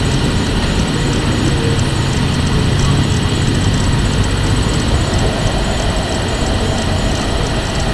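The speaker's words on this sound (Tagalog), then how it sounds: "umaandar na po ang ating motor ng spin dryer." A newly installed spin dryer motor runs with a steady, loud whirring hum and low rumble throughout, with a faint high-pitched whine on top and no voices.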